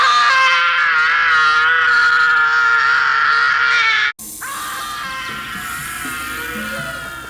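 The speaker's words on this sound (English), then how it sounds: "Was that Macaulay Culkin's scream from Home Alone?" A loud, sustained high-pitched scream in the 1990s cartoon Sonic Underground, resembling Macaulay Culkin's Home Alone scream. It holds for about four seconds, cuts off abruptly, then resumes slightly quieter.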